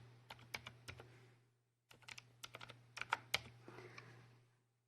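Rapid bursts of keystrokes on a computer keyboard as a mobile number is entered, two clusters of crisp clicks split by a short pause, close and alone over a steady low hum.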